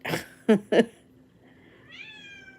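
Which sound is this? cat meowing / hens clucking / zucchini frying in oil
cat meowing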